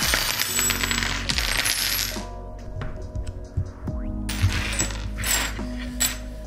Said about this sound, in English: I dug up every Allen key I have in my house for this video.